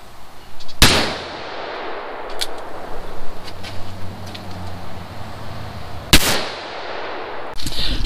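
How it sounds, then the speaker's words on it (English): Two sharp, loud 357 Magnum revolver shots ring out several seconds apart at an outdoor range where car brake rotors are the targets, each with a brief echo, with faint rumble between and the start of a third report at the end. "Go 357 Magnum time, the big boy."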